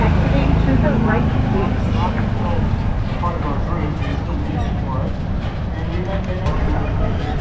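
Steady rumbling of a tram moving at Oshkosh AirVenture, with a rolling, rattling undertone and voices chattering in the background throughout.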